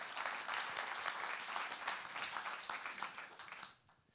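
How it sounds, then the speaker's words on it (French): Conference audience at a business leaders' colloquium in Avignon gives sustained applause, dense steady clapping that fills the room and fades out in the final half second. "on peut applaudir Aliette qui est avec nous"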